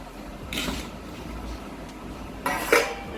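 Two metal kadai woks being scrubbed and handled during dishwashing, with soft scraping and a couple of brief clanks of metal on metal, close by and without talk.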